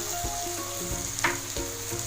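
Garam masala and other spices frying in a pan for South Indian sambar give a steady close sizzle, with a few soft stirring scrapes near the start and middle.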